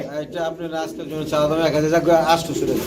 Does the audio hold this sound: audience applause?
no